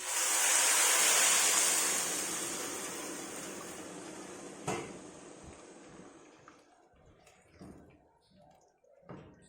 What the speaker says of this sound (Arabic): دلوقتي شوحنا البصل، هنضيف الميه السخنه كده